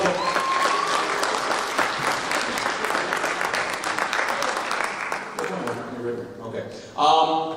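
A crowd at a Halloween concert claps steadily for several seconds, then the applause thins as someone starts talking over it.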